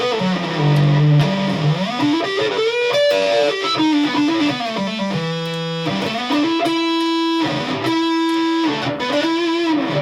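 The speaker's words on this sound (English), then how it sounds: "Maybe with that amount of distortion and a guitar" A 1983 Westone Concord H2 electric guitar, heavily distorted, plays loud sustained, bending notes and riffs continuously, with a thick, saturated tone throughout.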